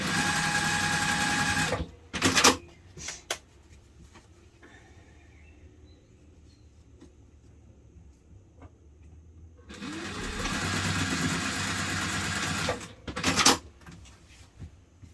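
A sewing machine stitching bag fabric and lining together for a hipster bag, two bursts of fast close whirring at the start and end with a long quiet stretch between them.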